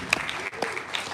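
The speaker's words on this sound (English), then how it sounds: "please give him a round of applause" An audience at an island music conference breaks into a short burst of applause, with a voice briefly heard over the clapping.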